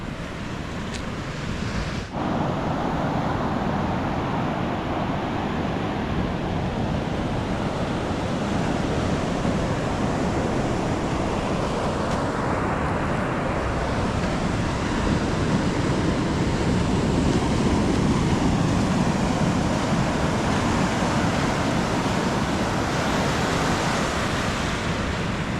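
Pacific Ocean surf rolls steadily onto a beach in Brookings, Oregon, a continuous loud wash of breaking waves with wind noise buffeting the microphone and no voices.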